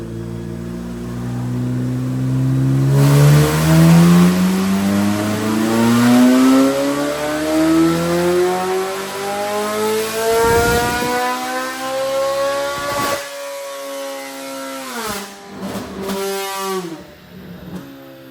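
A Chevrolet C8 Corvette Z06 with a ported intake and ported throttle bodies revs hard on a dyno, its engine note climbing steadily through a long loud pull, then easing off with a few brief throttle blips at the end.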